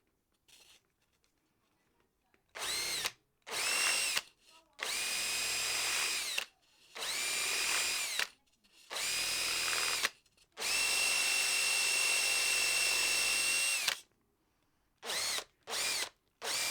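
A cutter drills into an Akrapovic DB killer baffle from a KTM Duke exhaust in a series of loud, close, high-pitched drill bursts of varying length. Short silent pauses separate them, and one long continuous run sits near the end.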